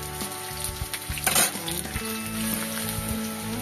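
Potatoes sizzle and fry steadily in a hot pan, a continuous close crackle with a brief louder burst of spitting midway, no voices present.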